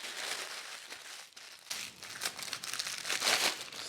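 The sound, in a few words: crumpling parchment paper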